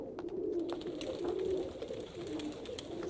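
Pigeons from a flock living on an indoor film soundstage coo in steady, overlapping low calls, close and continuous throughout with no talking.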